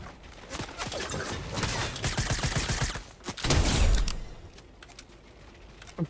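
Sudden gunfire in the Fortnite video game, a dense run of quick shots and clattering, followed by a heavier low burst and then quieter scattered clicks.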